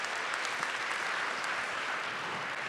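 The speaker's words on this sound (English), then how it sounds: "a round of applause for all of our speakers, all of our student speakers" Students and staff at a school mental health assembly give steady, even applause for student speakers, continuous clapping at a moderate distance with no talk over it.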